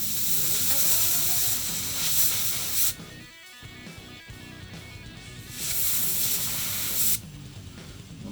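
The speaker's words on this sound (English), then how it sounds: "You're gonna take the canned air. You're gonna angle it just so you can get the bearing to spin." Canned air spraying a yoyo ball bearing, a loud steady hiss in two long blasts separated by a quieter pause with faint spinning and clicking, close to the listener.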